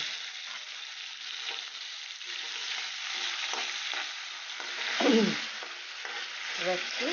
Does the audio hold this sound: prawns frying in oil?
yes